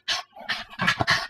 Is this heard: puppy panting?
yes